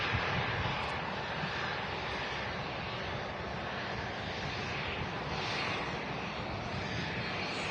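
An Embraer 145 airliner lands at Manchester Airport, its jet engines producing a steady, broad roar that stays loud and even throughout without any voices.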